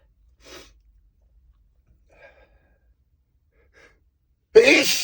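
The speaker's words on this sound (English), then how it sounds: "I'm gonna sneeze." A person sneezes during a sneezing fit inside a car: a few soft gasps and breaths, then one sudden loud, close sneeze at the end.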